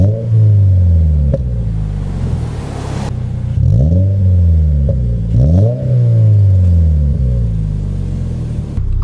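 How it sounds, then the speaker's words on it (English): A 2022 Subaru BRZ engine with an HKS Spec L exhaust revs hard several times, each rev climbing and falling back to a throaty idle, loud and close, with no talking. "Here are some revs."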